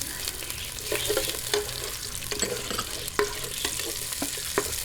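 Aromatics fry steadily in a pan until light brown before the onions go in, with a continuous close sizzle and crackle and scattered stirring scrapes throughout.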